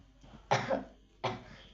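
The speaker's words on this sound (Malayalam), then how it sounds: "ചുമയൊന്നും അധികമൊന്നുമില്ല എന്നിട്ടാ ചുമക്കിയത്" Two short, harsh coughs from one person with a fever, close by, separated by a brief pause, after a faint breath.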